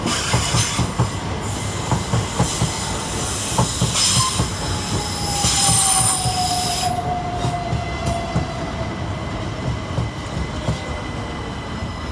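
A British Rail Class 377 electric passenger train rolls steadily through Clapham Junction station nearby, wheels clattering over the rails, with a long high squeal drawing out as it passes and gradually recedes.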